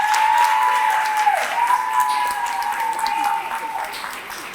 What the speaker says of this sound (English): Give my scholars a round of applause.